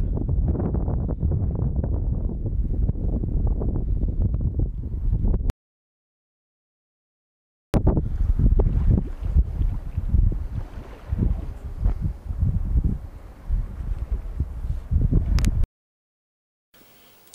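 Strong gusting wind roars across the microphone at a seaside pier in long buffeting bursts, broken by a short silent gap, with no voices present.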